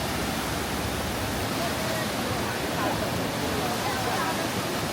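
A waterfall in Jiuzhaigou scenic area, Sichuan, pours down beside a wooden boardwalk, a steady, loud, broadband rush of falling water filling the whole span without pause.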